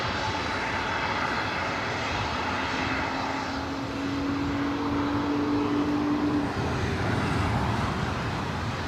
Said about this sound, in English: Up next, Spirit Airlines. It's an A320neo coming in from Las Vegas